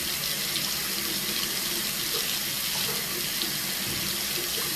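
A faucet runs steadily while a rubber skincare mask applicator is rinsed under it, a constant close hiss of flowing water with no pauses and no talking.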